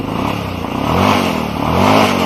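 A cold ATV engine turns over on its electric starter and catches, then revs in uneven surges with a rattly mechanical clatter, loud and close.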